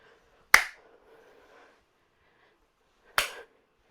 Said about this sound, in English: Getting a big clap in the center